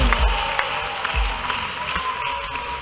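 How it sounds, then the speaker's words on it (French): Church congregation clapping together for the Lord during a testimony service, a steady broadband patter of many hands with crowd murmur, moderately loud and continuous. "Can someone clap for the Lord?"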